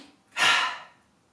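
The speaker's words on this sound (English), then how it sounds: "it's going to be a three-part inhale followed by a big exhale" A single sharp, breathy nasal sniff-inhale from a person doing an energizing three-part yoga breathing exercise, close and fairly loud, rising quickly and tapering off over about half a second in an otherwise quiet room.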